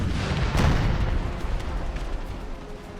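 Heavy Union artillery fire in an American Civil War battle game, a deep booming blast that rolls out into a long low rumble of distant cannon, with no talking.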